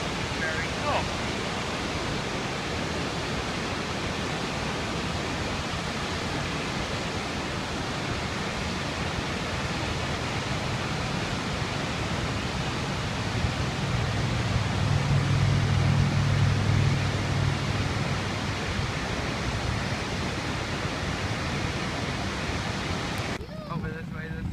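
A waterfall smaller than Niagara Falls pours in a steady, dense broadband roar, loud and continuous throughout, near Warren, Pennsylvania.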